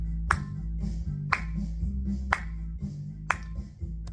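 Sharp hand claps land about once a second in a steady rhythm over a low, sustained musical backing with a piano, four or five distinct claps in a row.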